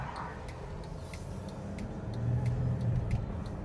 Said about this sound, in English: One more car and we can go.